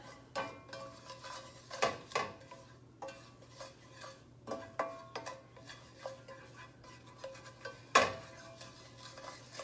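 A spoon stirs cheese and oregano in a bowl, producing a steady series of soft scraping clinks and taps against the bowl, close and quiet with no talk.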